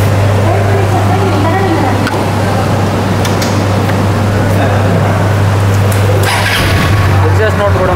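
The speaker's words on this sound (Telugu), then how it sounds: "ఎగ్జాస్ట్ నోట్ చాలా ఎక్సలెంట్ ఉందన్నమాట" A Hero Xtreme 160R motorcycle with a 163cc oil-cooled engine runs at a steady, loud, close idle with a low drone. A person talks over it.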